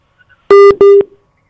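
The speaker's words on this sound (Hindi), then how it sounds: "तो फोन कट गया" Two short, loud, identical telephone busy-tone beeps sound after a call is cut off, clean and alone with silence around them.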